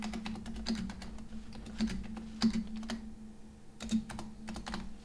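Computer keyboard typing a new folder name, a quick run of close, quiet key clicks with a few louder taps and brief pauses, no talk.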